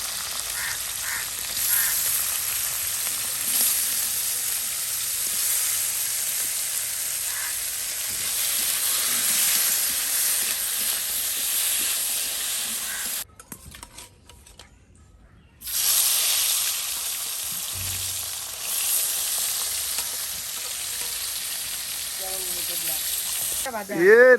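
Crabs fry in a pan during village cooking in Bangladesh, giving a loud, steady oil sizzle that drops away briefly midway and then resumes, with a short voice near the end.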